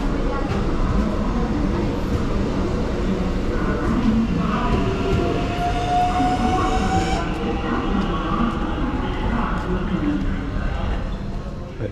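An HCMT suburban train rumbles at a Melbourne city station platform on a rainy day, a steady loud rolling drone with a brief wheel squeal, while someone talks over it.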